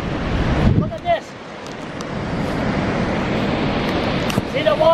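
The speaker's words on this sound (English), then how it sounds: "See the water coming out?" Water rushes steadily through the concrete of the Mactaquac Dam in a broad, continuous roar, while someone speaks briefly over it near the start and end.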